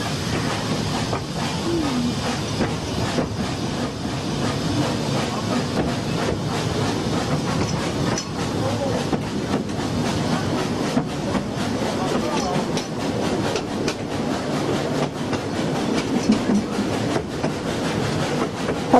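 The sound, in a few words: railway train running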